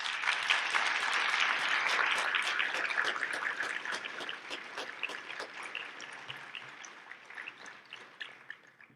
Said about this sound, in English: I'd like to give you a big round of applause for all the effort you put in